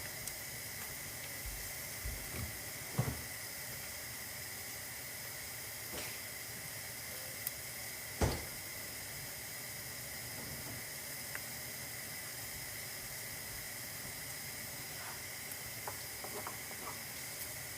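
Onions frying in a pan for Ugandan matooke katogo, a steady quiet sizzling hiss running throughout with a few faint clinks and knocks from the kitchen, no talking.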